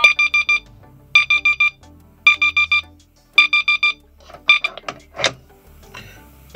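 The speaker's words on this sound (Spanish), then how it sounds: "Vamos a poner, por ejemplo, que la alarma suene a las 18:40." A VZComm 500-003 single-line telephone sounds its alarm as loud, close electronic beeps in quick bursts of four, each burst repeating after a short pause, with faint handling noise and clicks near the end.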